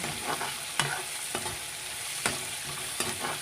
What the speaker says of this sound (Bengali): এগুলো ভালো করে নেড়ে চেড়ে কষিয়ে নিচ্ছি